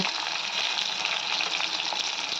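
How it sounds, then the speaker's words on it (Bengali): Chopped ginger and tomato fry in hot oil with a steady, loud, continuous sizzle as they are stirred, and no talk. "আদা কুচিটা একটু নাড়িয়ে নিয়ে এর মধ্যে টমেটোটা দিয়ে দিলাম, দিয়ে ভালো করে একটু ভেজে নেব"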